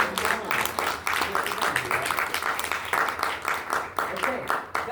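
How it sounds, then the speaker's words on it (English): Applause from a live concert audience in a theatre in Cookeville, Tennessee, sustained clapping in rhythmic bursts with voices and talk mixed throughout. "Give yourselves a round of applause."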